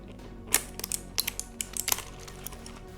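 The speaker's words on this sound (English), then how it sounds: "So let me actually pull one of the keycaps." A keycap is pried off a mechanical keyboard with blue switches, giving a scattered run of sharp plastic clicks and snaps, close and crisp, with no talking.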